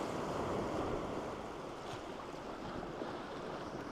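Ocean waves wash against a rocky coast in a steady, broad rush of surf, with some wind noise on the microphone and no voices.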